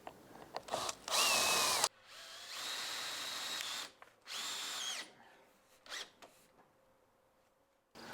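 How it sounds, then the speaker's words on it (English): A cordless power drill drives self-tapping Torx screws through roof drip edge where it meets the gutter. There are several separate whirring bursts, each rising in pitch as a screw seats, with quiet pauses between them and close clicks. "Now these just get locked into place with some self-tapping Torx head screws."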